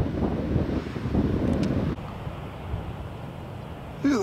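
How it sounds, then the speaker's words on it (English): Waves breaking on a rocky coastal reef near a smooth sheltered pool at Streaky Bay, heard as a steady low roar of surf mixed with wind buffeting the microphone, rougher in the first half and then calmer. "Waves are breaking out on the reef, but then it's smooth in here."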